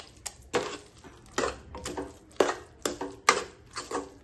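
Mashed vegetables being stirred with masala in a pan for pav bhaji, heard as a series of close, sharp scraping and tapping strokes of a utensil against metal, roughly one every half second, with no talk.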